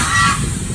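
Geese on a very windy morning give a short burst of honking, loud and close, with gusty wind noise around it and no talking.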